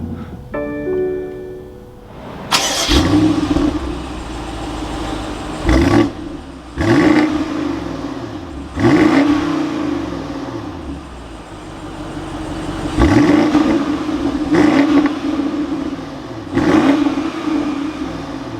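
A 2022 BMW X7 M50i xDrive V8 fires up with a loud starter burst, then settles to a steady idle punctuated by several sharp revs that rise and fall back, heard close without talk.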